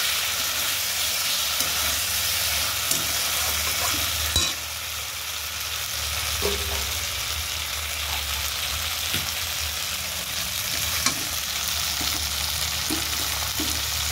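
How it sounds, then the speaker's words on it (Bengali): Fritters sizzle and hiss steadily in hot oil in a pan, a loud continuous frying noise with occasional scraping and knocks as the pieces are turned over. "আর এবার সব বড়াগুলো উল্টে পাল্টে দিয়েছি, আরও হবে, মানে ভিতরে কাঁচা থাকে না।"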